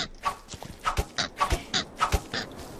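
Video game pigs give repeated short grunts and snorts in a quick, uneven series, fairly close and alone.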